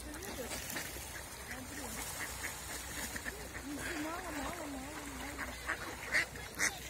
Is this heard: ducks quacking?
yes